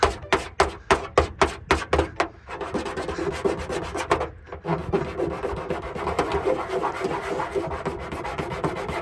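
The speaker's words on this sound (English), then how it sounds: "Got a big scrape going along here, and it didn't peel the stuff off." A sharp rock scrapes across a Plasti Dip coated car surface in a quick series of distinct rasping strokes, then settles into a continuous close rough grinding scrape.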